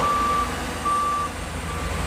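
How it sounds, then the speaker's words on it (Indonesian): Trucks and excavators at work on a toll road earthworks site, where a truck's reversing beeper sounds loud and steady over a low engine drone. "ada 5 belko dan ada 6 truk fuso yang memuat tanah"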